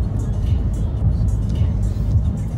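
A Nissan X-Trail crossover accelerates with a steady, loud low engine drone and road noise from inside the cabin, continuous throughout with no talk.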